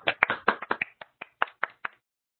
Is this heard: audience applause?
yes